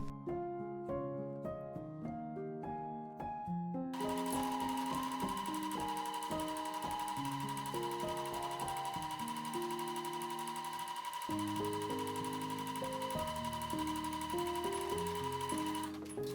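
A sewing machine top stitches the elastic casing on a tiered skirt, running as a steady, loud mechanical whir for most of the clip, with background music heard throughout.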